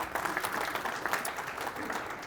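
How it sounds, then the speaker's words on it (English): Applause from an audience at a corporate magic show during an engineers conference, a steady wash of claps filling the short stretch at moderate level with no voices on top. "Let's give him a round of applause for his help."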